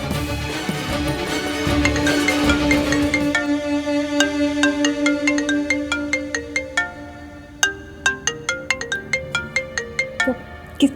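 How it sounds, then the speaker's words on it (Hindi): A loud electronic phone ringtone plays a bright repeating melody, shifting into rapid plucked-sounding notes, with no one speaking. "किसका फोन है?"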